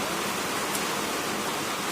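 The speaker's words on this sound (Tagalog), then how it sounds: "Grabe ang ulan." Heavy rain pours down steadily, a dense, even hiss filling the space with no pauses or voices.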